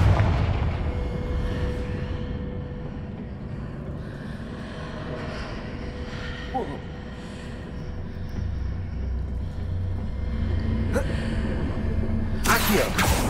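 Fiery Confringo spell blasts in the Hogwarts Legacy video game form a constant rumbling, booming wash with a sharp burst near the end, loud and continuous.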